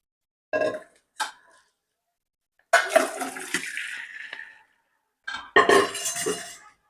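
Several short wet pours, cooked lentils sliding and splattering into a colander over a pot, separated by silent pauses, with a faint metallic clink.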